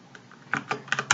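A few quick keystrokes on a computer keyboard, close and clear, start softly and then come as short, sharp taps in a small burst.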